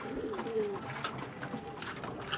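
Pigeons coo softly among a group of kept birds, a faint low cooing repeated over light rustling, with no one talking.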